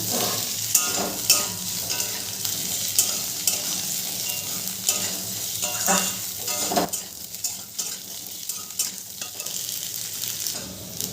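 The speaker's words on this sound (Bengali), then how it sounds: "আলুগুলোকেও নেড়ে চেড়ে খুব ভালো করে আমি ভেজে নেব।" Cut potatoes fry in oil with a loud, steady crackling sizzle, stirred throughout by a spoon that scrapes and knocks against the pan in irregular bursts, close up and with no voices.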